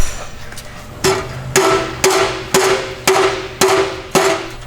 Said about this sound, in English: get that hammer on the ground and hit that, you know, the front of the Y